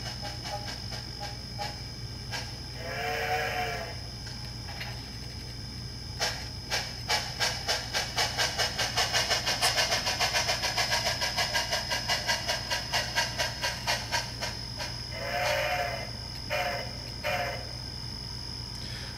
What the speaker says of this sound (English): You just need the Tsunami 1000 heavy steam decoder